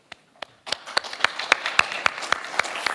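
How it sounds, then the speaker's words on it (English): Applause at a farming conference breaks out after a few scattered early claps, swelling into steady clapping from a seated audience that carries on to the end, moderately loud and without talk. "So big round of applause."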